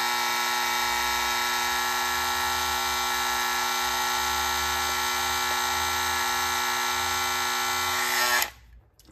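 An Andis electric shaver running while overheating, a loud steady buzzing whine with a rich tonal drone that holds for about eight seconds and then cuts off abruptly.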